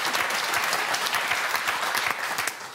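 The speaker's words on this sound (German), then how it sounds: "Kannst du Applaus." Studio audience clapping on a German evening talk show, a dense sustained applause that stays steady and loud throughout, then eases slightly near the end, with no talking over it.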